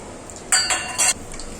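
Whole spices, fennel, cloves, cinnamon and cardamom, crackle and spit in hot oil for mutton gravy, with a couple of metallic clinks from a pan, close and loud, no talking.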